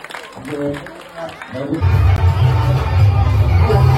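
Crowd cheering and clapping at a women's special Home Minister contest show, starting as scattered voices and swelling after about two seconds into a loud, sustained roar of applause and shouts from a large audience.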